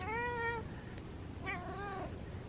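A cat gives two clear meows a second apart, the first long and steady, the second rising and wavering, fairly close over faint room noise.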